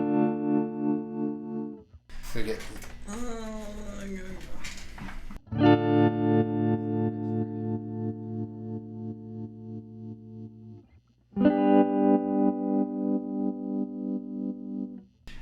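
A modulation pedal chops guitar chords into a rapid, choppy stutter, with sustained strums pulsing in sawtooth-like bursts; a brief noisy passage with a voice interrupts between the first and second chords.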